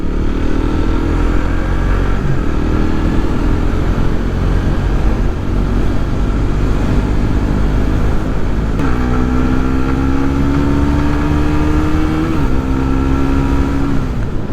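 A Suzuki Bandit motorcycle engine drones loud and steady while riding, with wind rush and a rising then falling engine pitch as the rider shifts and accelerates, no talk present.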